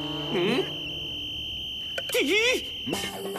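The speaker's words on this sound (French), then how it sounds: "C'est le sifflet d'alarme de Roderick." A shrill whistle warbles up and down like a siren in two short bursts over a steady high tone, with a brief voice between them.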